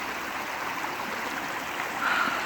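Steady broadband wash of creek water flowing during an outdoor meditative walk, a soft continuous murmur with no voices and a slight swell near the end.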